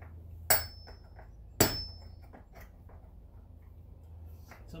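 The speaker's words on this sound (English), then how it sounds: "Then what you want to do is you want to pop these pins." Hammer strikes driving pins out of exterior door hinges: two sharp metallic knocks about a second apart, each with a brief ring, followed by lighter taps and shuffling in a quiet room.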